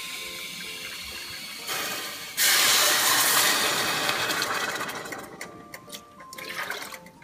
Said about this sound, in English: I'm going to add 2 cups of water to this.